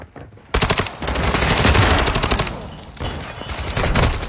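A mounted gun in a video game fires in loud, sustained rapid bursts that start abruptly, with a brief dip before the shooting resumes.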